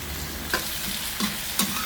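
Kale and canned fish stir-fried in a pan, with a few soft scrapes of stirring at a steady pace over a faint low sizzle, close and quiet with no talk.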